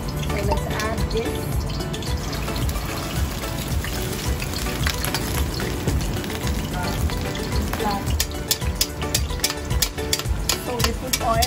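Alamang shrimp omelette mixture poured into hot frying oil, giving a loud, dense, crackling sizzle that runs steadily throughout with sharp popping spatters.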